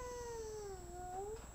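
A voice imitates a cat, giving one soft, drawn-out meow that dips and rises.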